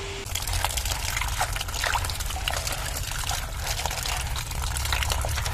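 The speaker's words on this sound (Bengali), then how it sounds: "এবার পাতাগুলো ধুয়ে নেব পরিষ্কার করে জল দিয়ে।" Water runs steadily over Malabar spinach leaves being washed, a close continuous splashing trickle with no speech.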